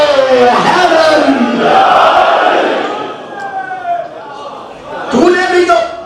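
A crowd at a Muharram majlis in Lahore roars a loud collective slogan in answer to a speaker, then falls back, and a second burst of shouting rises near the end.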